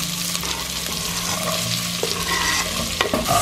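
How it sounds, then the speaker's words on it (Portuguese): Onion and garlic sizzling with bacon in a frying pan, a steady, close, dense crackle with occasional stirring clinks and scrapes and no talk. "vou fritar a cebola com o alho e vou jogar o frango"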